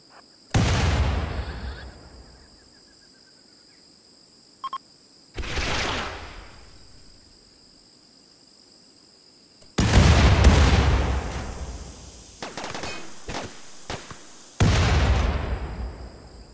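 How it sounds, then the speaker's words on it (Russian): Heavy explosions and gunfire from a battle in the RimWorld video game, with booming blasts spaced several seconds apart, a sharp crackling burst of shots in between, and a steady high electronic tone underneath. "То есть оружие этих уродов еще и взрывается."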